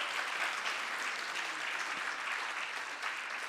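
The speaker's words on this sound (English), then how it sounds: "Can we give them a big round of applause?" Steady applause from the audience at an evening Ladies Day celebration at Sai Prema Nilayam, a dense, even patter of many hands clapping that holds at a constant level throughout with no voices over it.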